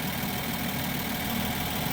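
A 2025 Ram 1500 SST pickup engine idles while warming up, producing a steady low drone with a constant broadband hum and no pauses.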